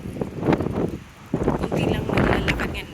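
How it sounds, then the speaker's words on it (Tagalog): Strong seaside wind at high tide beside a beachfront lined with hotels, buffeting the microphone in rough, rumbling gusts that drop off briefly and then surge back, with a person talking underneath. "Sobrang lakas kasi ng hangin."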